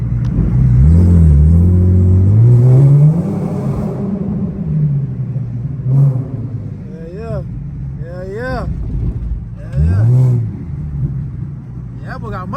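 Infiniti G37 with downpipes revving loud and raspy, a deep rumbling exhaust note rising and falling in a few bursts, with voices talking over it in the later part.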